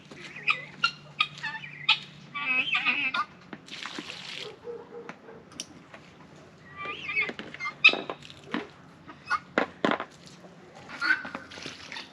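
Chickens in a muddy homestead coop in January, scattered close clucks and short squawks coming in bursts, with soft rustling and thuds between them.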